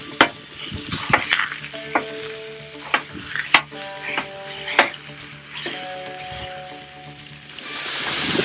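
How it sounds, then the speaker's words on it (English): Sausage sizzles steadily on a Blackstone griddle, broken by repeated sharp metal spatula scrapes and taps as it is chopped into chunks, the frying hiss swelling toward the end. "So the sausage is cooking, kind of tore it apart so we have little smaller chunks."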